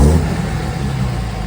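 A 5.9 Cummins diesel truck engine with a Banks 6 Gun tuner and aftermarket exhaust runs close by, loud and steady, with a slight swell at the start that settles into an even low rumble.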